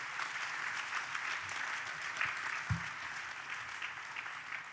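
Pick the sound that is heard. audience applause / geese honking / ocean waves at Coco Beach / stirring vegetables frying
audience applause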